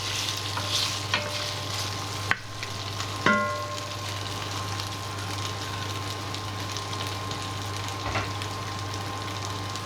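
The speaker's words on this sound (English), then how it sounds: "you'll just be actually frying the meat as opposed to boiling it" Beef frying in oil in a pot on a hob at medium heat for beef bourguignon, a steady close sizzle with a few stirring clatters and scrapes throughout.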